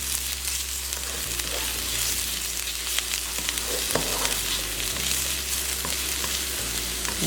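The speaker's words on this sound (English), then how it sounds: "So I have the wok heating up. So adding in the onions and the garlic" Onions and garlic fry in hot oil in a wok, a constant crackling sizzle that stays even and close throughout, with occasional small stirring knocks.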